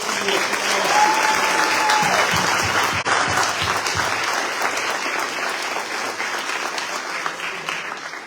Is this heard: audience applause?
yes